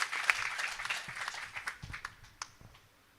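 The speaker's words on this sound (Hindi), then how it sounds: "और एक बार जरा ताली बजाकर मुझे बताइए" Applause from a kavi sammelan poetry recital audience at Jodhpur University, a soft scattered patter of clapping that thins out and fades to a few isolated claps by the end.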